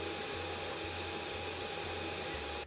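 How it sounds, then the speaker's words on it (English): The front-facing part cooling fan on a Fokoos Odin-5 F3 folding 3D printer gives a steady, loud, blower-like whoosh with a faint tonal whine. It runs unbroken and close by, then cuts off abruptly at the end. "Unfortunately, the part cooling fan that's front facing here is loud. And I mean like leaf blower loud."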